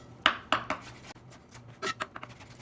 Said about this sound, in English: So from the stem, I cut them bias cuts.